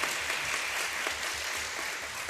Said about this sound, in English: So give a round of applause to Ms. Pham.